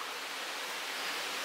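Light rain falling steadily outdoors, a soft, even hiss of fine drops with no distinct patter, continuous and fairly quiet throughout.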